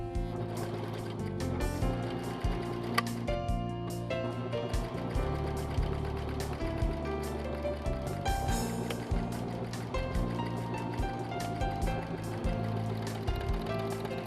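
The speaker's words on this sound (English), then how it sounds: "Place the folded strip under the presser foot and serge the raw edges." A Brother overlock serger runs continuously as it stitches and trims raw fabric edges, giving a steady, close, rapid mechanical whirr and chatter with no pauses.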